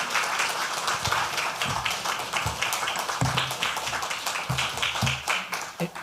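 A church congregation applauds as a pastor comes forward at a Sunday joint worship service, a steady wash of many hands clapping with a few louder, closer claps standing out near the end.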